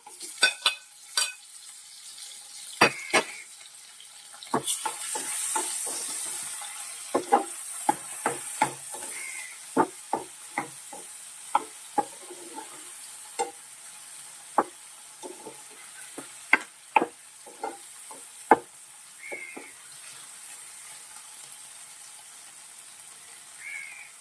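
Prawn roast masala with tomato sautés in a pan, a low steady sizzle broken by frequent sharp clicks and scrapes of stirring, close and with no talk.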